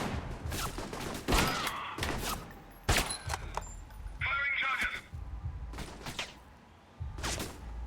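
Gunfire in Alpha Protocol near a bridge, a handful of sharp loud shots spaced irregularly among thuds, a brief radio-like burst and other game noise, with no talking over it.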